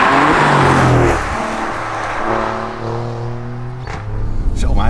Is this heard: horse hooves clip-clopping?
no